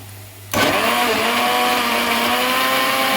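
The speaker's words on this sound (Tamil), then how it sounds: "மில்க் சேர்த்து மிக்சியில் சேர்த்து இப்போ அரைக்க போகிறோம்" Kitchen blender (mixie) switching on abruptly and grinding avocado with milk into a shake, a loud, steady high-pitched whirring motor that runs continuously after the start.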